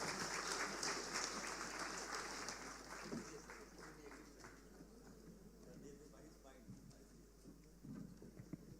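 Applause from a crowd at an investment summit hall, a dense steady clatter of clapping that gradually thins and fades over several seconds.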